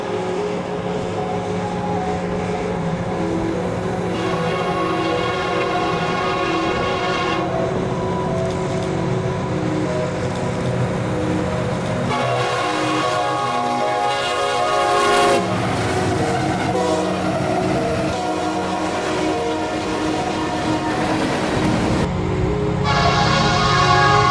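A freight train led by an SD70M locomotive rumbles past at length, with loud, sustained horn blasts sounding repeatedly over the steady roar and clatter of cars.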